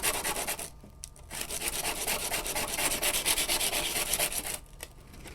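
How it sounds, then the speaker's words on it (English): A seed is rubbed back and forth with 120 grit sandpaper, a close, continuous raspy scratching in rhythmic strokes with a few short pauses. "this is a 120 grit sandpaper, and just rub it back and forth"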